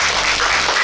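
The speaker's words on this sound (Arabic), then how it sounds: "اعطونا تصفيق." An audience claps briefly on a TV show, a short dense burst of applause heard close and loud.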